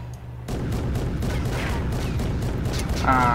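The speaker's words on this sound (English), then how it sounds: "let's go ahead and fire off a shot" A tank cannon fires a single shot in the video game Garry's Mod, a sudden loud boom that rolls into a sustained rumbling roar, with a faint mechanical whine near the end.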